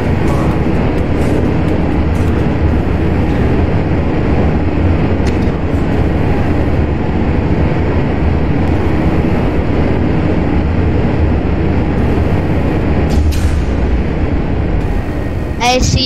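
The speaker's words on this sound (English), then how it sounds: "go for main engine start" Rocket main engines roar at launch, a loud, unbroken broadband rumble that holds steady for about sixteen seconds, with voices faintly audible beneath the thunder.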